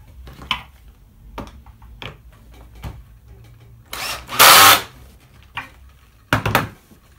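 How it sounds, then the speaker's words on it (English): A power drill drives screws into an assembly table board, with two loud bursts of motor whine among scattered knocks and clicks in a quiet workshop. "Now just enough to prevent that board from moving while I drive those screws home."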